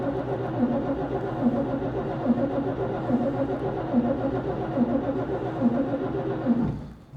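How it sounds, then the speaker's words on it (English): A 1941 Chevy engine turns over on its starter with the clutch in, cranking steadily and rhythmically for about six seconds, close and fairly loud, before it stops, with no voices. "I'm gonna power the ignition on with this janky little switch. Step on the starter button right here."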